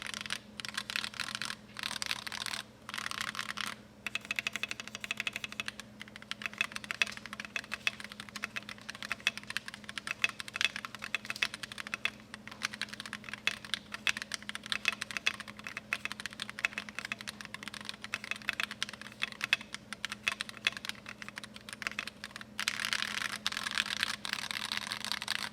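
A cheese-themed mechanical keyboard with stock parts is typed on continuously for about 25 seconds, giving a dense, even stream of close key clacks with a few short pauses and no talking.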